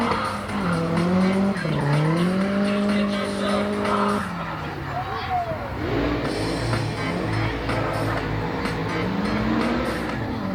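A drift car performing in an arena at a Santa Pod stunt show, its engine droning and rising in pitch with loud, sustained tire squeal and skidding, close and continuous, with crowd noise in the background.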